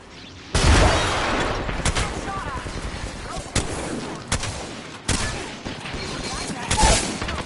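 A grenade blast in a shooter video game, part of a dense firefight with a sudden loud burst, repeated sharp gunshots and rumbling impacts at a fairly steady level over several seconds, with some voices mixed in.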